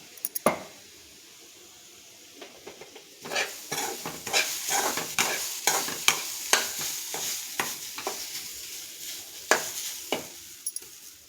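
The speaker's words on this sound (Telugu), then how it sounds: "ఇప్పుడు కొబ్బరి పొడిని వేపుకుందాం." Coconut powder roasting in a pan while being stirred, with rapid repeated scraping and light clinks of a spoon on metal, close and steady over a soft sizzle, no talking.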